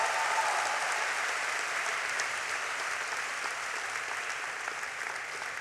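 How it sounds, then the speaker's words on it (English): Sustained applause from a large crowd for graduates at a university graduation ceremony in Vietnam, a continuous even wash of clapping heard from a distance. "Let's give them a huge round of applause."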